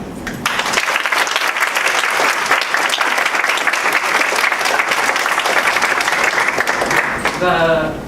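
An audience at a college evening panel event applauds to welcome the speakers, a steady, full round of clapping lasting several seconds before fading at the end.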